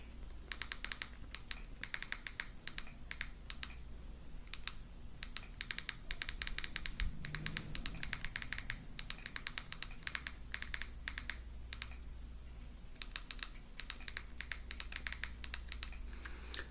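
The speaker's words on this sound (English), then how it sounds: "what you're going to do is you're going to type in this address" Rapid keyboard typing while a web address is entered for a Kodi install, with dense, irregular clicking and clattering keys in bursts throughout, close and fairly loud, with no talking.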